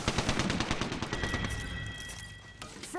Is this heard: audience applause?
no